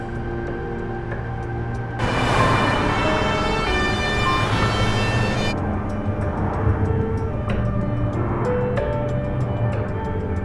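An ambulance siren wails loudly and close for a few seconds before cutting off, leaving a steady engine hum and a regular clicking tick.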